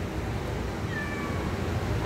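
A single cat meows once at an animal shelter, a short rising call at moderate distance over a steady low background hum.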